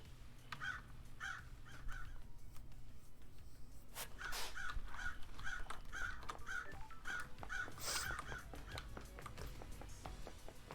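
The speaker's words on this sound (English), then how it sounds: "Gotcha, crows. I really did get you, crows." Crows caw in the video game Paradise Killer, a run of repeated harsh calls arriving in quick rhythmic bursts over a steady low ambient hum, fairly close and clear, with no talking.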